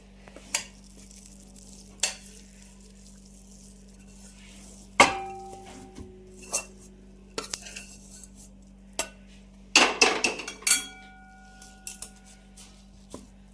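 A metal spoon clinks and scrapes against a pan as a sesame sweet mixture is moved onto a ghee-greased plate, with sparse sharp knocks and scrapes separated by quiet pauses, close and fairly crisp.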